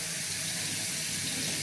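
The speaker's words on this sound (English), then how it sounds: "I'm gonna splash some water on it." Cold water runs from a tap in a steady, even gush with light splashing, close by and continuous, with no voices.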